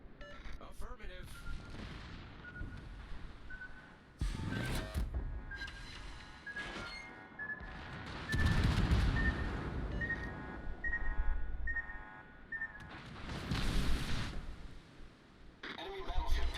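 Naval gunfire in a ship battle video game, with heavy booming salvos that come in several bursts spread through the scene, loud and rumbling, mixed with game music tones and radio-style voices.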